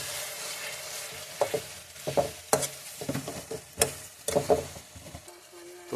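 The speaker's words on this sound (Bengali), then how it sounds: "তো সম্পূর্ণ মশলা ভাজা হয়ে গেল" Ginger-garlic paste, cumin paste and ground spices frying with softened tomatoes in a pan for small fish curry, with a soft sizzle under repeated scraping stirs of a spoon, close and fairly quiet, with no talk.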